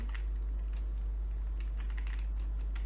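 Quick, irregular keystrokes on a computer keyboard during a Minecraft game, close and fairly quiet, with a steady low hum underneath and no talking.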